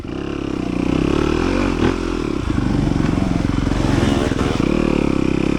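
A 2023 Yamaha YZ250FX dirt bike races through a muddy harescramble, its engine loud and close with a buzzing drone and rising revs, over clatter from the track.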